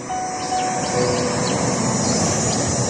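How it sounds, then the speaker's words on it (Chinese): A high-speed bullet train rushes past a park in Shenzhen, making a steady, loud, broadband rushing roar that holds for the whole stretch, with no voices. "一列高铁飞驰而过"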